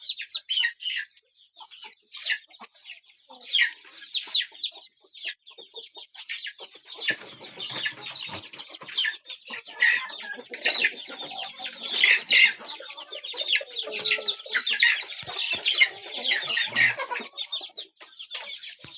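Chickens kept in a coop cluck and chatter in repeated short bursts, close by, with brief quiet gaps between their calls.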